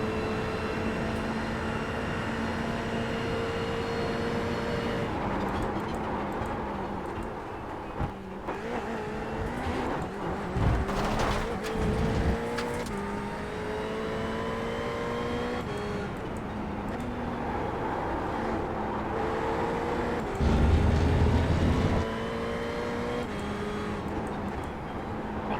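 A Ferrari GT3 race car laps Monza in a racing video game, its engine droning and rising through the gears in long sweeps, with brief downshift bursts and a louder roar near the end.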